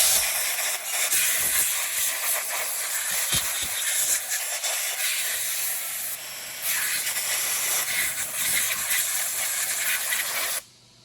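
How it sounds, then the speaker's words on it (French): Compressed air hisses in long loud blasts while clearing residue off a motorcycle oil pan on a 1999 Harley-Davidson Dyna FXDX, with short breaks between bursts before cutting off at the end. "On va donner un petit coup d'air."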